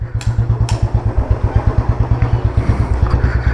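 A motorcycle with a manual decompressor revving with poor throttle response: a loud, close, rapid thumping exhaust beat that stays fairly even rather than climbing sharply, with a couple of brief metallic ticks near the start.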